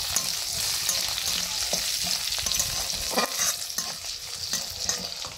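Grated ginger and chopped green chilli sautéing in spices in a pan, a steady close sizzle with occasional stirring scrapes and clicks, no talking.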